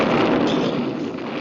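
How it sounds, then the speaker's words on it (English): Cartoon cannons disguised as trees on an island fire in a loud, dense roar of booming blasts that fills the whole moment with no speech. "Boris, those things make loud booms"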